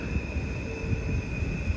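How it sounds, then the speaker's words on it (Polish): Intercity night train bound for Zakopane standing at a station platform, giving a steady low rumble with a continuous high tonal hum, constant in level and fairly close. "Tak, to jest ten pociąg."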